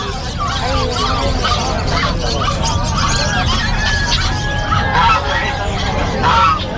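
Geese honking amid a busy outdoor pet market, the calls mixing with crowd chatter and nearby voices in a constant loud hubbub.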